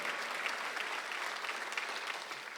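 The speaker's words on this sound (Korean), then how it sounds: "박수 하나 넣으세요." Steady, dense applause from a church congregation at a Sunday worship service fills the space evenly throughout, with no break or voice on top.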